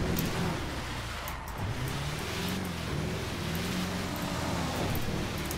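A rough video game truck engine, a Duramax-swapped Tesla Cybertruck in GTA 5, droning and revving steadily, with a buzzy, synthetic-sounding tone throughout.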